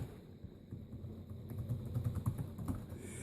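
Fingers tap away on the keyboard of a Dell Inspiron 6000 laptop in a quiet room, a soft irregular clatter of keystrokes that grows busier in the second half.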